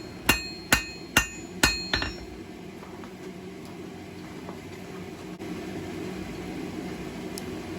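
Four sharp ringing blacksmith hammer strikes on hot metal over an anvil in quick succession, forging a key ring, then quiet workshop hum.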